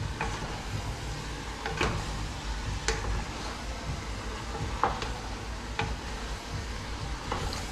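Pork fried rice is stirred constantly in a hot pan, a low sizzle broken by sharp, irregular clicks of a utensil against the pan, close and without talk.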